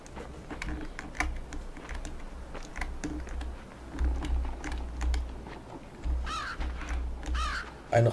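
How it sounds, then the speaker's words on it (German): A raven caws in the game Limbo, several harsh calls rising over constant low droning and busy clicking, the caws strongest near the end. "Ein Rabe."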